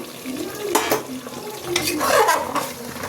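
Potatoes stir-fried in a pan with spices and salt, sticking a little to the bottom, give a steady close sizzle broken by scraping stirs and clinks of a spoon against the pan.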